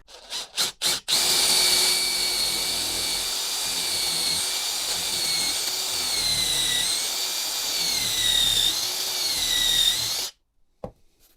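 A power drill whirs steadily for several seconds after a few short bursts, its pitch wavering slightly as it bores a pilot hole for a confirmat screw in cabinet board, then stops abruptly.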